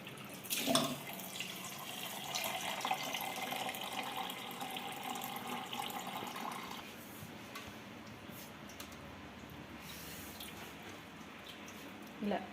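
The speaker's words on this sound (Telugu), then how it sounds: "ఇప్పుడైతే వాటర్ అంతా వంపేసి ఒక రెండు సార్లు అయితే కడుక్కొని" Water pours and splashes as soaking water is drained off semolina for several seconds, then quiet dripping and soft wet squishing of the rinsed semolina, close up.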